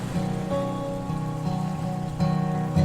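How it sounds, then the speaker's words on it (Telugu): Steady rain falling with a soft, continuous patter, heard over a low engine hum as if from inside a moving vehicle. "చల్ల చల్లగా వర్షం పడుతూ చాలా బాగుందండి"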